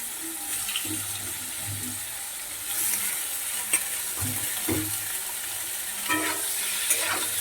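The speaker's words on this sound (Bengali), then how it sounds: "এবার আমি ফুলকপিগুলোকে একইভাবে ভেজে নেব হালকা করে ভেজে নেব" Partly boiled cauliflower frying lightly in a pan, a steady moderate sizzle broken by a few clinks and stirring scrapes, close by and with no speech.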